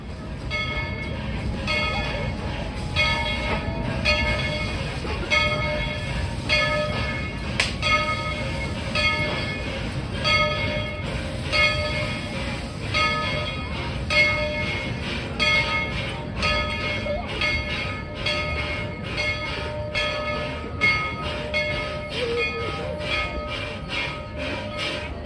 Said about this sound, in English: the whistle echo through the mountains as the train makes its way into the station